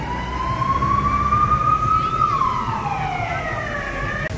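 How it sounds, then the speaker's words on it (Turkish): An ambulance siren wails in a long rising and falling sweep, moderately distant over steady traffic noise, heard from a town square in Ceuta. "Hastane yakınlarda galiba, ambulans sesi"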